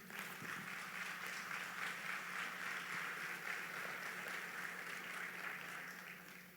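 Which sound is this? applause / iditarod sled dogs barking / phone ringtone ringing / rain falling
applause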